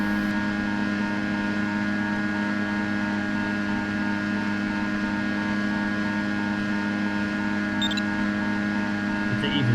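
A steady, droning engine hum from an EB29R glider in the Condor 2 flight simulator, continuous and even throughout with layered tonal whine and no talk over it.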